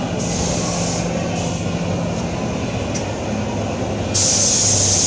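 3M Fast Bond 30 NF spray adhesive being applied while a fiberglass sheet goes onto a Class C motorhome: a continuous close hiss with brief sharper bursts, louder toward the end.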